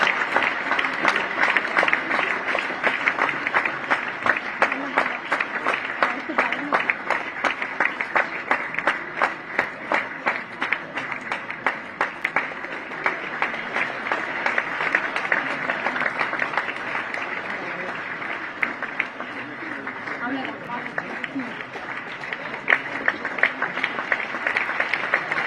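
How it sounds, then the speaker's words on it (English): A large audience at a college event in Tamil Nadu keeps up a long, sustained round of applause, dense and continuous clapping that fills the hall evenly for the whole stretch. "Let's keep the round of applause going,"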